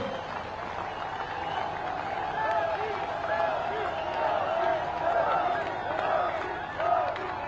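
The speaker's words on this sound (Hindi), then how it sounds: "जोरदार तालियां बजाकर सारे लोग आदरणीय योगी जी का दोनों हाथों से करतल ध्वनि से ताली बजाकर उनका स्वागत करेंगे।" A large crowd at a road show and public rally in Champawat, Uttarakhand greets Chief Minister Yogi, giving a steady, loud wash of cheering and applause with mixed voices throughout.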